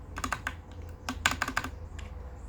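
Keys pressed on a mechanical keyboard from AliExpress fitted with black keycaps, a handful of crisp close clicks in short irregular bursts, with quiet pauses between.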